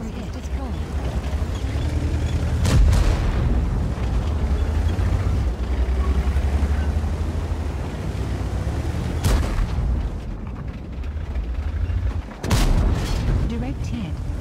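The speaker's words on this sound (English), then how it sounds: "Direct hit. Enemy fuel tank is destroyed." A tank shell scores a direct hit and destroys an enemy IS-3-era tank in World of Tanks. Heavy engine rumble and battle noise run throughout, broken by a few sharp, loud impact booms, with voices talking over them.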